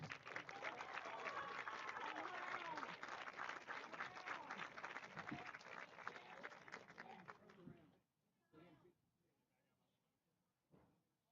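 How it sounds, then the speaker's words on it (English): Big round of applause for senior softball players and their families at a high school softball game, dense clapping and crowd noise for about eight seconds before fading to a few scattered claps. "Let's give one more big round of applause to our seniors and their families."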